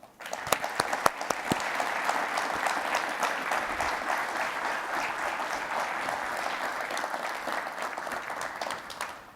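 An audience gives sustained, dense applause to welcome former Tennessee governor Bill Haslam, starting with a few scattered claps, then swelling into a steady roar of clapping that holds for several seconds before tapering off, with no voices over it.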